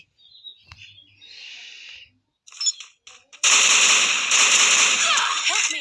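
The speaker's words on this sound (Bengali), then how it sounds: "ভাই গ্রেনেড ছুটছিস" In a shooting video game, scattered small sounds give way to a loud grenade explosion that bursts in suddenly and roars on as sustained, crackling noise, with voices faintly present.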